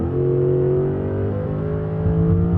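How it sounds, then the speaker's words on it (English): Retro-styled supercar V8 from the game Automation revving steadily on a race track, a loud continuous engine drone with rising and shifting pitch, alone with no talk. "Also the V8 sounds good, as it should."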